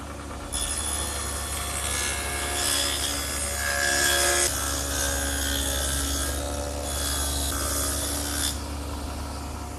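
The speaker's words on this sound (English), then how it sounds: "I've set up my table saw with the adjustable dado head cutter to be about 1/4 of an inch wide" A table saw fitted with an adjustable dado head cutter, set about a quarter inch wide and half an inch deep, cuts a groove in wood, giving a steady loud whining rasp that holds for several seconds under a constant motor hum.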